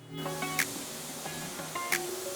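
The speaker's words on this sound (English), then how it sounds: "You spray on it, spray over the top of it, you wipe it away" Two short hissing bursts of cleaner sprayed onto a custom Jeep Trackhawk, about a second apart, over a faint tonal hum in the background.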